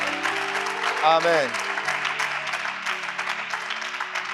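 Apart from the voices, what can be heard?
congregation applauding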